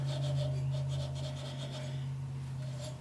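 A steady low mechanical hum with a rough, grinding rasp on top, like a bearing spinning unevenly, continuous and close, from a Ford tractor water pump bearing.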